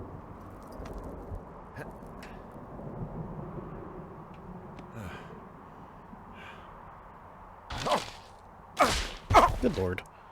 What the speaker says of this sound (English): The thunder sounds so real in my headphones.